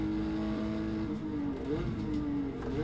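Porsche 911 RS race car at Zolder with a steady, fairly quiet engine drone that holds its pitch, then shifts slightly as it changes gear, with no voices over it.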